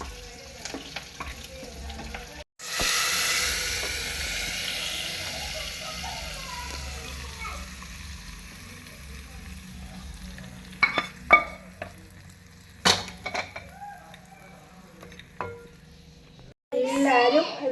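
Mustard seeds and onion tempering hit hot oil and are poured into a ginger curry, giving a sudden loud sizzle that fades over several seconds, followed by stirring clinks and a voice nearby.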